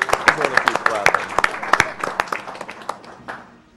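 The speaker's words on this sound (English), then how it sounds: "I want to clap again. I'm going to keep clapping." Live crowd applause during a Super Mario Galaxy 2 speedrun at a charity gaming marathon, with dense rapid clapping from many hands that is loud at first and then gradually thins out and fades.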